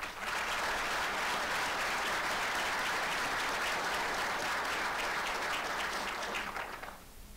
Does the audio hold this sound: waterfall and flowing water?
no